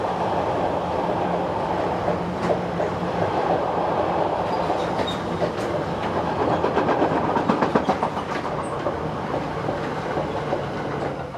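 A passenger train from Budapest to Hamburg passes steadily nearby, a continuous rumble with a run of clattering wheel beats over the joints partway through, then easing off.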